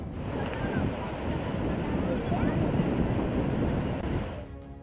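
Floodwater of the swollen Krishna river near Belagavi after heavy rain, a steady loud broadband rush and roar of churning water, continuous and close, with wind buffeting the microphone throughout.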